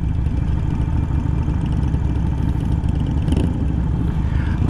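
A 2020 Harley-Davidson Iron 883 motorcycle engine running, a steady, loud low-pitched rumble heard up close, unbroken across the whole stretch with no talking.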